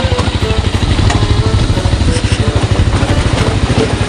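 A motorcycle engine runs on a road, a close, steady low throbbing with rapid rhythmic pulses that stays loud and even throughout, with no voices over it.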